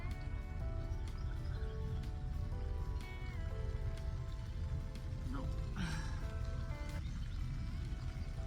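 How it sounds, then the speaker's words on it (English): Steady heavy rain hisses throughout, a dense constant patter with scattered tonal sounds and faint voices mixed in. "It's raining really hard."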